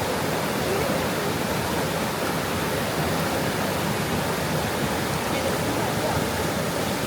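Strong current of a green river beside an Orang Asli village campsite rushes steadily and loudly, a dense broadband roar with no pauses or other sounds.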